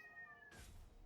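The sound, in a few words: cat meowing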